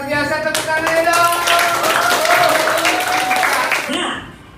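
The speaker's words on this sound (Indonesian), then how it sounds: "Luar biasa, tepuk tangan dong" A classroom of students clapping their hands together, loud and close, with voices calling out over the steady clapping before it tapers off.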